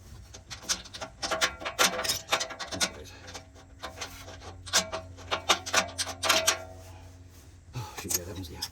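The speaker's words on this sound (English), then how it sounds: "This one's going to need more tightening from the bottom and from the top." Bolts on a Nilight LED bullbar being tightened during installation on a 2024 Honda Ridgeline, giving close scraping and ratcheting rasps in irregular bursts over a low steady hum.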